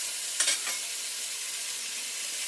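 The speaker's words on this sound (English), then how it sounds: "Oh, you hear that sizzle?" A steady, bright hiss of food sizzling in a hot pan, with a brief sharper crackle near the start.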